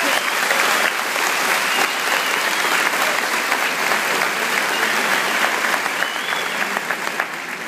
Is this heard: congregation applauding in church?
yes